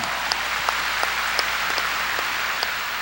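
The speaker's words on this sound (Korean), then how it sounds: "박수치며 하나님께 영광 돌리시고" A church congregation at a 1992 Korean Sunday worship service claps together during the sermon. The clapping is a continuous, even roar with a few sharper individual claps standing out, and no one speaks.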